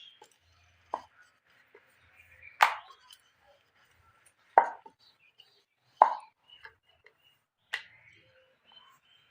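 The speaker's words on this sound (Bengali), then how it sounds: "ছোট ছোট করে নিমকির মতো কেটে নেব।" A knife cuts rolled dough into small nimki-style pieces, giving sharp isolated taps on a board, roughly six clear strikes spaced a second or two apart, close and quiet with silence between them.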